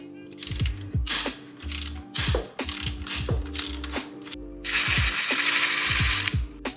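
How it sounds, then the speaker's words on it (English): A hand ratchet loosens a bolt on a 2022 Yamaha FZ-07/MT-07 motorcycle, with close, loud, rapid clicking pawl strokes repeated in quick bursts, ending in a longer continuous ratcheting run. "next we're going to take off this bolt right here"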